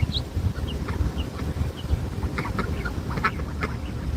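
Several ducks quack repeatedly in short bursts across an outdoor barnyard, close and fairly loud over a steady rumble of background noise, with no talking.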